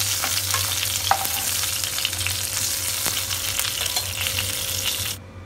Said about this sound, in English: Let them fry for a while.